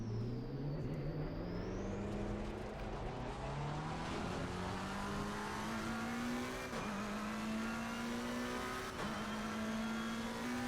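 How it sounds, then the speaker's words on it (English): A McLaren 720S circles Mount Panorama in a racing video game, its engine droning steadily and climbing in pitch through the gears, with brief dips at upshifts and constant road and tire noise beneath. "we're here at Mount Panorama in the McLaren 720S. Gonna do some test driving here"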